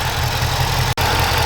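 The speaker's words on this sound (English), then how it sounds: "it's been idling just fine for the past 10 minutes now" A Shelby GT350 V8 idles steadily on an E85 flex fuel kit, a loud, even low rumble with one momentary dropout near the end.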